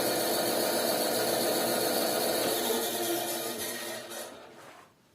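Metabo BAS 261 bandsaw running on its first start after unboxing and installation, a steady loud motor whir with broadband hum that winds down and stops near the end.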